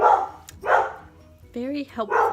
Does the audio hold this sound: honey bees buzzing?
no